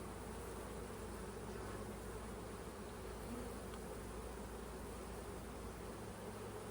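Honey bees buzz in a steady, dense drone around an open beehive during a split, faint but continuous, with no voices.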